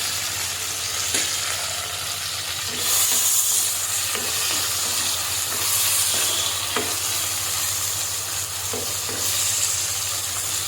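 Chopped tomatoes stirred into frying masala in a pan for a Kerala-style roasted-coconut fish curry: a steady close sizzle with a hissing steam wash and a few soft scraping stirs, no voices.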